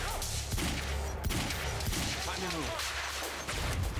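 Gunfire in the video game Quantum Break, with repeated shots and time-power effects through a dense, loud game mix under steady background sound.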